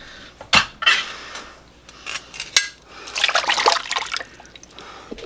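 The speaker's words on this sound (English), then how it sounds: "open our French onion soup and pour that on top" French onion soup poured from a can over a pot roast in a slow cooker: a few clanks of the can and utensil, then a wet, glugging pour and trickle of thick liquid, close and fairly quiet.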